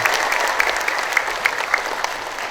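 Steady applause from a crowd at a Gerindra party political rally in Indonesia, dense clapping sustained evenly throughout with occasional louder claps standing out.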